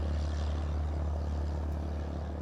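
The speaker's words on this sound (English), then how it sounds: "The sights and sounds of planes traveling through the skies" An airplane passing through the sky gives a steady, loud low rumble with a broad whooshing roar that holds evenly throughout, with no voices.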